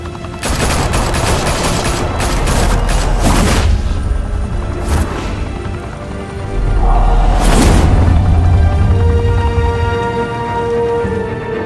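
Gunfire breaks out in Batman The Telltale Series, loud bursts of shots with booming impacts and gaps between volleys, then rumbling aftermath, with no talk.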